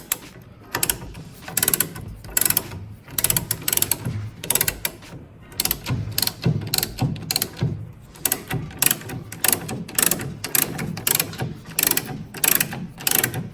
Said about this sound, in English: So I'm going to torque this down to 101.